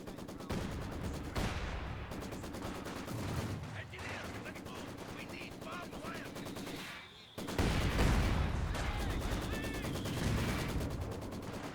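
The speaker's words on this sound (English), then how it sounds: "my 120mm mortars are dropping on their face now too" A 120mm mortar barrage pounds away in Company of Heroes 2 on a bridge map, with booming impacts and rattling gunfire in a busy battle mix, a heavy blast landing after a short dip in the middle.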